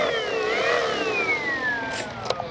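Electric motor of an Avios Extra NG 300 RC airplane whirring as it spools up and down, a steady whine sliding in pitch, close and continuous, with a couple of brief clicks near the end.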